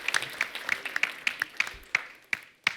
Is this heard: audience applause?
yes